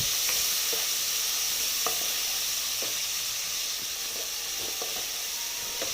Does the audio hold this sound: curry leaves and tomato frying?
yes